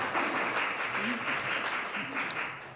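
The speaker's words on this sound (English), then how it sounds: "I think there was an applause coming there" Applause from a panel discussion audience, a dense, steady wash of clapping lasting throughout with a few voices faintly underneath.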